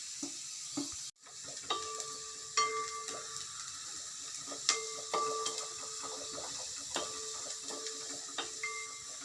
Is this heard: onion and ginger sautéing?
yes